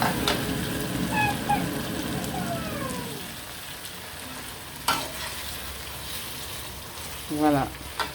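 Potato and chicken gratin being stirred in a pan, a soft scraping and sizzling stir up close for the first few seconds that then quiets to a low simmer, with a few brief clinks and rattles later on.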